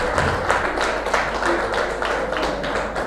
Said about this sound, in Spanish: Roberto, un aplauso que se redobla porque lo estuvimos esperando mucho tiempo.